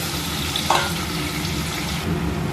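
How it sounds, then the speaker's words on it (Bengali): Chopped onions frying in a pan before vegetables go in for a fish curry, a continuous close sizzle with a quick stir clatter partway through, no voices. "পেঁয়াজটা আগে একটু ভাজা ভাজা করে নেবো"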